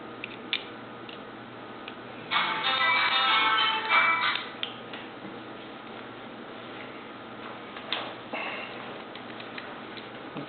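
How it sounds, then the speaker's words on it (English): Tools tightening the blade on a paper trimmer: small metallic ticks and clicks, a burst of rapid ratcheting or scraping in the middle, and a few scattered taps, close up. "You take your tools, just tighten it up."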